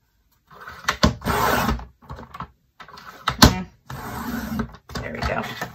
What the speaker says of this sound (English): I'm gonna turn it and make my second cut at 8 inches.